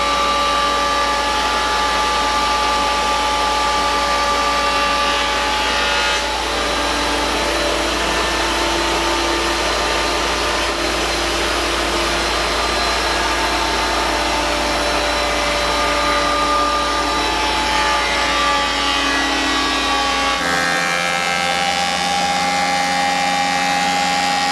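An electric power planer shaves wood boards for cabinet building at an off-grid cabin in northern Minnesota, a loud steady whining roar sustained throughout before the motor abruptly cuts and winds down near the end.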